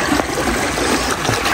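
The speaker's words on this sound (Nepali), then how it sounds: "खोला बगिरहेछ।" A river stream rushing in a rural spot in Korea, heard at night while crossing, gives a steady, broadband wash of flowing water.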